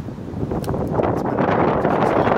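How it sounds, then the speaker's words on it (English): Strong gusts batter a phone microphone set up outdoors on a tripod in Buffalo, making a loud, close, continuous rumbling roar with a few rises and flutters and no voices. "Wind keeps blowing my tripod over."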